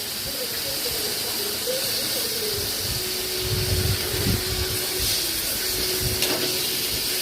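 Mutton pieces fry with a steady hiss in a hot pan, a continuous close sizzle with faint steamy crackle and occasional soft stirring thuds.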